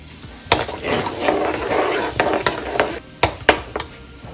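Fenugreek and cumin seeds frying in hot oil crackle and sizzle up close, with sharp spattering pops and a few clinks of a stirring spoon against the pan.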